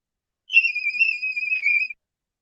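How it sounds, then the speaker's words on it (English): A singer's voice climbing into the whistle register, holding a thin, piercing high note for about a second and a half, with a slight wavering pitch, fairly clear and alone. "that's a whistle register"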